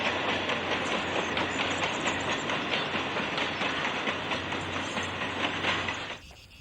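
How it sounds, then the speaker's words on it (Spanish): A narrow-gauge La Robla railway train carrying sand rolls past with steady rumbling and rhythmic clickety-clack from the wheels, loud and close, then cuts off abruptly near the end. "Un tren venido a menos, pero que todavía transporta arena para las vidrieras de Llodio."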